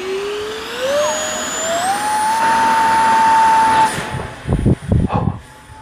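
A radio-controlled X-36 model jet on its maiden flight sends out a loud ducted-fan whine that climbs steadily in pitch and holds, then cuts off abruptly, followed by a few rough bursts of wind buffeting nearby.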